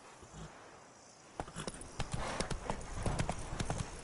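Horse hooves clip-clop in The Witcher video game, starting faint and growing into a quick, steady run of close hoofbeats, with a soft murmur of game sound underneath.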